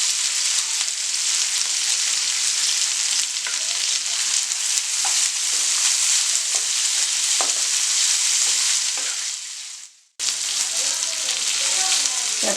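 Quail frying in a kadai with green chilies gives a loud, steady sizzle that holds for about ten seconds, cuts out briefly, then sizzles again.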